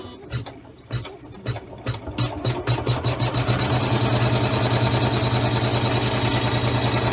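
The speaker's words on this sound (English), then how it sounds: "The hoop is back in the machine, and this step will tack all the pieces together." An embroidery machine tacks quilted basket fabric pieces held in a hoop, starting with a few spaced stitch thumps that quickly settle into a loud, steady, rapid whirring stitch rhythm close by.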